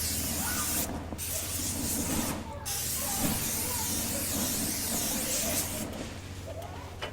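Water sprayed onto hot coals in a Weber Kettle grill fitted with a Santa Maria attachment: loud, continuous hissing spray with bursts of sizzle and steam, broken by a couple of brief pauses, close and harsh throughout.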